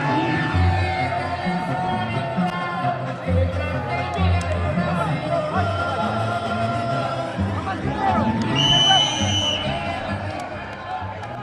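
A boxing match crowd murmurs as a steady, fairly distant hubbub throughout, with a commentator talking over it and a brief louder swell near the end.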